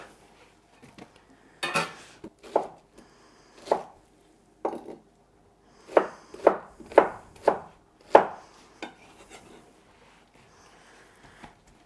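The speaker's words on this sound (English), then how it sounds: "There we go, that's all the chopping done." A knife chops fruit into bite-sized pieces on a cutting board, making irregular sharp knocks in small clusters with pauses between, close and crisp, with no talking.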